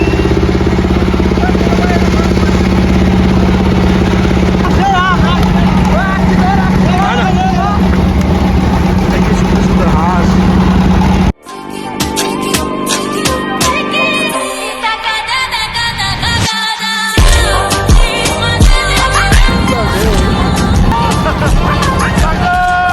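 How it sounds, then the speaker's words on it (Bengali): A boat's motor runs steadily and loudly as the boat pushes off from the shore on the way to a river char, with people talking nearby and the engine tone shifting partway through. "এবার নৌকা নামতেছে, এবার নৌকা নামছে"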